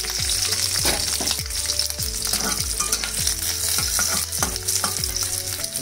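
Steady loud sizzling of whole chillies and garlic frying in hot oil, with repeated scraping strokes of a spatula stirring the pan.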